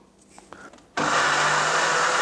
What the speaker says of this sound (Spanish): He triturado el ajo, el pimiento y el pepino.